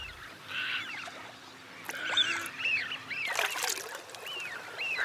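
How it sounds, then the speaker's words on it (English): Waterbirds calling at Chilika lake, where little cormorants live: repeated honking, squawking calls near and far over a quiet background, with a splash or rustle midway. "Some are permanent residents, like the little cormorants."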